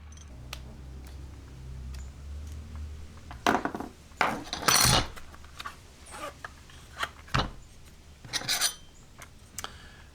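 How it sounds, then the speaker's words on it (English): Small metal screws are backed out of a K&F Concept square camera lens filter holder, giving scattered close clicks, scrapes and sharp metallic taps with quiet pauses between them and no talking. "Let me just see if I can back those out a little bit to see if that loosens up that fitment just a tad."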